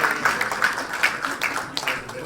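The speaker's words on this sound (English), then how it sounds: "I think a big round of applause for our last candidate" Audience at an Australian citizenship ceremony applauds the final candidate, a short wash of steady clapping with a voice speaking over it.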